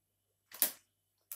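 Scissors cut through paper in two short, crisp snips about a second apart, quiet and isolated against near silence.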